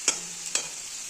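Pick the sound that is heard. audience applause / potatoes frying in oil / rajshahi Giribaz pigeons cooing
potatoes frying in oil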